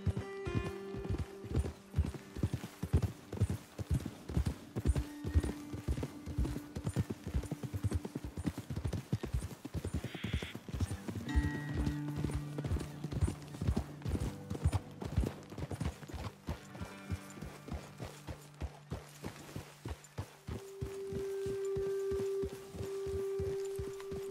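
Horses walk on a trail in Red Dead Redemption 2, with steady rhythmic clip-clop hoofbeats close by, a brief whinny partway through and a droning musical background.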